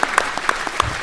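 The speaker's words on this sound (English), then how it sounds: "So we got to give him a round of applause" A short burst of audience applause for a speaker at a public policy talk on artificial intelligence, crisp clapping from a crowd heard briefly and fairly close, with no talk over it.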